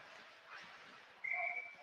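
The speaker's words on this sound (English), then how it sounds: "We get a whistle." A referee's whistle sounds at a boys' high school hockey game, one short shrill blast heard faintly over the quiet rink ambience.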